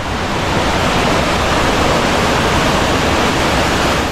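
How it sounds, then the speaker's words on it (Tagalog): Loud, continuous roar of a waterfall in Dingalan, Aurora, close by, a dense steady rush of falling water that drowns out everything else with no voices. "So yan yung falls dito sa Lingalan, Aurora."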